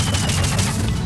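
Rapid gunfire in Metal Gear Solid Peace Walker aimed at the player, a brief, loud, dense burst of shots.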